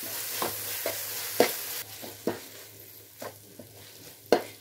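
Ginger, garlic and green chili paste sautéing in a pan for chicken curry, a low frying sizzle broken by a series of distinct spoon scrapes and taps at irregular intervals, close and moderately quiet with no talking.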